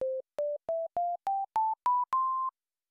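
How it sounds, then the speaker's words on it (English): Sine-wave tones from a Tracktion BioTek software synthesizer patch: eight clean, pure notes stepping upward in pitch, evenly spaced, the last held a little longer, loud and alone. "which plays a sine wave"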